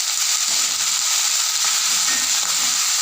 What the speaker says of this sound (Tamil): இப்போ பச்சை மிளகாய் வெங்காயம் கருவேப்பிலை எல்லாம் போட்டுக்கலாம்